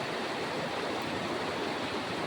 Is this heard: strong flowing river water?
yes